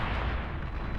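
Artillery fire in the real-time strategy game Beyond All Reason: a dense, continuous rumbling barrage of booming shots throughout, loud and sustained with no pauses.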